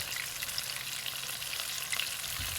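Daylily flowers frying crisp in a pan, a soft, steady sizzle with faint crackles, continuous and unaccompanied by speech.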